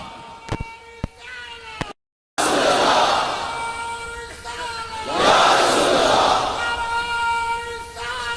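A large crowd at a religious rally roars out the slogan Ya Rasool Allah in loud unison bursts after a short pause, with sharp clicks beforehand and a sustained rumble of voices between the chants.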